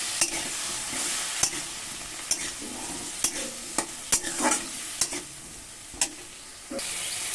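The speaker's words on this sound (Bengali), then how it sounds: "একটুখানি এর মধ্যে জল দেব মশলাটা কষাতে সুবিধা হবে" A spice paste loosened with a little water sizzles and hisses in a hot pan, broken by repeated scraping strokes and clicks of a spoon stirring it in an uneven rhythm, close and fairly loud.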